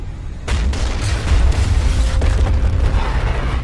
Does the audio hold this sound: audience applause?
no